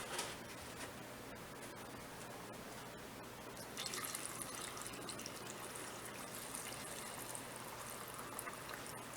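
Hot water pours and trickles quietly into canning jars of potatoes, growing a bit louder and fuller partway through, with faint drips and no voices.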